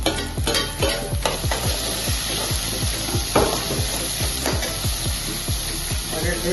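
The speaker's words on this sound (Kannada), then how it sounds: "ಇದು ನಾವು ಟೊಮೊಟೊ ಹಾಕ್ತಾ ಇದ್ದೀವಿ." Tomatoes sizzle and fry in a pan for vegetable kurma, with steady loud sizzling and a rapid series of stirring scrapes running throughout.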